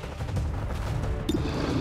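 Gunfire in the turn-based strategy game XCOM 2, a dense, sustained burst of shots rattling together for nearly two seconds, loud and close, with a short sharp ping near the end and no talking.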